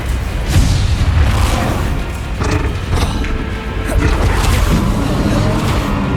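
Spell blasts exploding during combat in Hogwarts Legacy: dense, loud booms and crashing impacts piling over one another in a continuous roar of battle effects, without a clear break.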